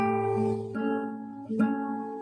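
Plucked guitar notes played as a short phrase of a few sustained tones with changing pitch, close and clear with no talk over it.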